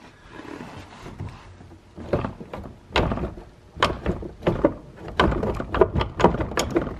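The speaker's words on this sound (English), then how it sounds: "let me just lift the door here real quick with my knee and just watch it." Door of a Chevrolet S10 pickup truck is lifted and wiggled on worn hinges, giving a series of close, loud metallic clunks and rattles that grow more frequent toward the end.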